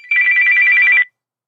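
A telephone on a call-in line rings with a steady, loud electronic trill lasting about a second, then stops into silence, with no voices.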